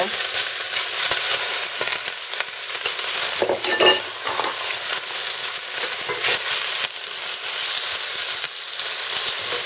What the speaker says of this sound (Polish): I teraz na to rozgrzane wrzucamy już to mięso.